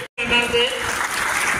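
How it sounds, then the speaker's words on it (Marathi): Schoolchildren in a classroom clap together in a quick, dense burst of applause that follows a brief silent gap, with some voices mixed in. "ओके, जोरदार टाळ्या."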